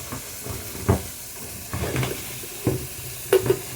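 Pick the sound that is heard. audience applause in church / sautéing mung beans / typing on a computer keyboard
sautéing mung beans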